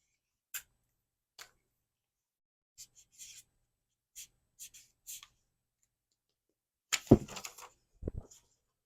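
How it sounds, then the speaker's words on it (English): Someone writes by hand in a quiet room, making short, sparse scratches spaced a second or so apart, then a denser burst of louder strokes near the end. "Let's write it down."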